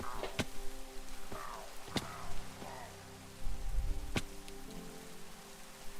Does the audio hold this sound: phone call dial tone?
no